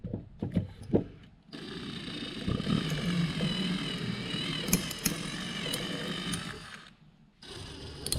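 A power drill boring out a broken bolt to prepare the hole for tapping a new thread, running as a steady continuous whine for about five seconds, bracketed by short clicks and handling taps before and after.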